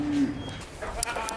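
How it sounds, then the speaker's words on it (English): Goats in a small farm stable give a brief bleat amid faint background rustling and soft stray noises, fairly quiet and close. "So all the goats that I want to take to my new place in that new little stable, Winnie, Marshmallow, Milkshake, Bandita"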